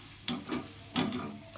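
Potato-stuffed paratha frying in a pan, a soft sizzle with two scraping pressing strokes as it is pushed down, close and fairly quiet.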